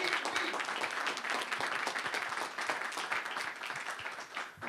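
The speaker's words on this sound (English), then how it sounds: "Let's give her another round of applause." Audience applause at a presentation for Oreo Colorfilled, a steady, fairly faint round of many hands clapping that fills the whole stretch without pause.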